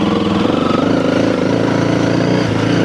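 A Honda CRF300L motorcycle engine runs steadily while riding off road on a leaf-strewn trail, a loud, continuous close-up drone with a slight rhythmic pulse and no talk.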